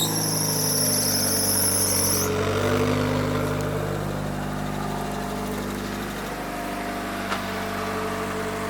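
A Toyota Altezza engine idles through an HKS Super Dragger exhaust with a steady, low rumble; a high whine fades after the first couple of seconds.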